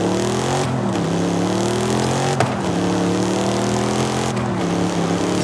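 An old-school 1960s-style car engine in Forza Horizon 5 roars loudly and continuously, its pitch climbing through revs with sharp drops at roughly three gear shifts.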